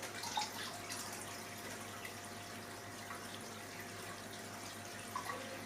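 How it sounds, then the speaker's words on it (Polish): Steady stream of water pouring from a small pump into a sump, a continuous, moderately faint splashing flow with a few brief drips and no voices. "W każdym razie strumień wody już sobie tutaj zasuwa."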